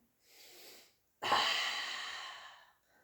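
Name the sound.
breathing in during Pilates exercise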